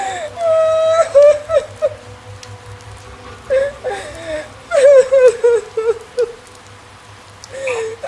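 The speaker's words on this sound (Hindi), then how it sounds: "अब रोने की आवाज आने लगी थी।" In a narrated Hindi horror story set in rain at night, a wavering, high-pitched crying and wailing voice rises and falls in several bursts over soft background ambience.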